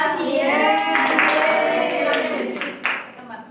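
A classroom of students applauds, with bursts of clapping mixed with lively children's voices that fade toward the end.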